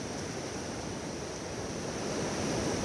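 Fast-flowing river water rushes in a steady, dense wash of noise, loud and continuous throughout, with no voices.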